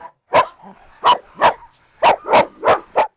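A dog barks repeatedly nearby, two single barks followed by a quicker run of four, loud and clear with quiet gaps.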